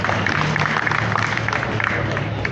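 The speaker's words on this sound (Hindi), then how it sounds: "ताली बजा सकते हैं" Audience clapping at a university department award ceremony, a dense steady patter of many hands sustained throughout, with crowd murmur mixed in.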